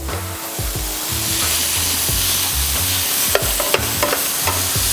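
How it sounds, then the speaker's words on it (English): Bacon browns in a pan while it is kept moving, giving a loud, steady sizzle with repeated scraping strokes and a few sharp clicks of the utensil against the pan. "the bacon's browning, and you got to keep it moving around"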